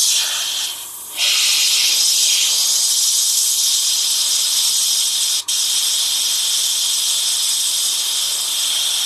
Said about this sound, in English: Every now and then you might want to clear the airbrush like that